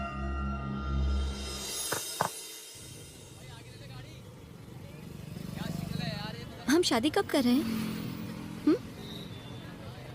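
Road traffic with cars and motorcycles rumbles steadily, louder at first and then lower in the background, while people talk over it.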